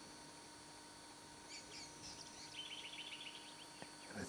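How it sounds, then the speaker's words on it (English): Faint, distant birdsong at dawn in Kalbarri National Park: high chirps and short trilled phrases over a quiet, steady background hiss. "hear the birds singing"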